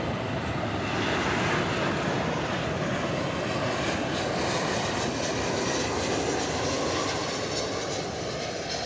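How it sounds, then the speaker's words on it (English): Steady, loud broadband roar of an Airbus A321's jet engines at DFW Airport, a continuous rumbling wash that holds level throughout with no voices over it. "It's an Airbus A321 going to a port of call that is unspecified by our friends at Flight Radar 24."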